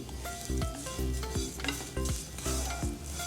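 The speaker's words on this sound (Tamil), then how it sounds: "எள்ளை சேர்த்துட்டு நல்லா மிக்ஸ் பண்ணி விட்டுக்கோங்க." Sesame seeds and grated coconut roast in a dry pan as sesame kozhukattai filling is prepared. A soft crackle runs under a regular series of scraping, knocking strokes from a spatula stirring them, with no talk.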